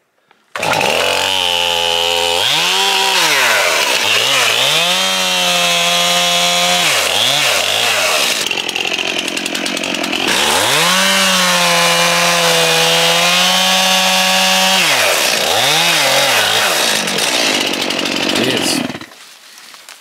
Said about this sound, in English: That's a man's chainsaw right there.